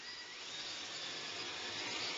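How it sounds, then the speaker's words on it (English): A drill bit bores through the mounting surface of a tractor or ATV hitch with a steady, high-pitched whine and a grinding hiss. The noise is close and continuous and holds at an even level. "drill through the mounting surface of the tractor or ATV"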